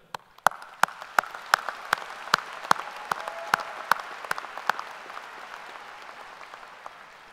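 Applause rises from a business school commencement audience, with sharp, rhythmic claps standing out near the microphone over a softer spread of clapping that fades toward the end.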